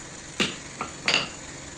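A hammer strikes a punch on stainless steel three times at irregular intervals, each blow a sharp, close metallic clink over a quiet workshop background.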